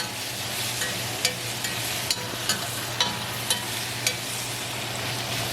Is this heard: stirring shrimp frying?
yes